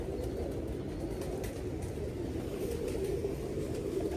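Pigeons cooing, a continuous low murmuring coo from several birds close by, steady and unbroken with faint fluttering movement in the background.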